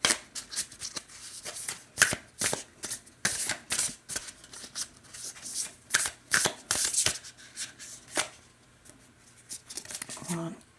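A deck of oracle cards being shuffled repeatedly, with quick riffling and rustling bursts in an uneven rhythm for the whole stretch, close by. A few faint bits of talk sit under it.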